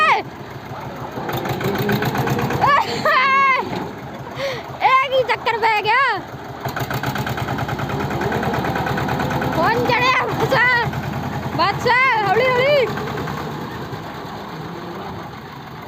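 A tractor engine idles and chugs steadily while being backed up on a farm plot among vegetable fields, a constant low rumble under loud excited voices calling out and talking throughout.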